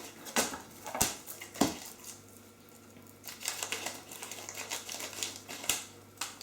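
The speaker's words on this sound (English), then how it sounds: "Just empty that into a mixing bowl" Fate low protein bread mix is emptied from its packet into a mixing bowl, bringing several close crinkles and rustles of the packet and sharp bumps against the bowl, with quieter rustling between.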